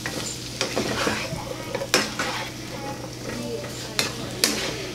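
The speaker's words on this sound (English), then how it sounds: "Just gonna saute them up with some garlic and salt" Chanterelle mushrooms and garlic sauté in a pan with a constant sizzle, punctuated by several sharp clinks and scrapes of a utensil against the pan.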